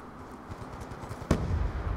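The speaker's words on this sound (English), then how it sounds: "Grenade." A grenade bursts in an online shooter game, one sudden sharp explosion cutting through quieter background rumble and followed by a lingering low roar.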